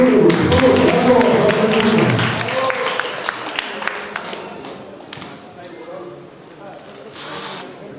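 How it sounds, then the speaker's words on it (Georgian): Applause for the president at a national boxing federation open-ring event, loud sustained crowd clapping that thins out after a few seconds into scattered claps, with a voice speaking over it. "კიდევ ერთხელ აპლოდისმენტები გაუძღვათ ჩვენს პრეზიდენტს"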